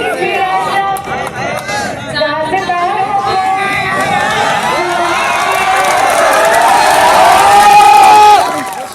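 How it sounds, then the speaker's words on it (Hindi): Students at a sports event cheering and shouting together, a loud, lively crowd of young voices that swells toward the end before cutting off, with chatter mixed in. "छात्राओं ने जमकर तालियां बजाई।"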